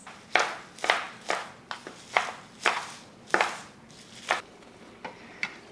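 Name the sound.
chopping collard greens into tiny pieces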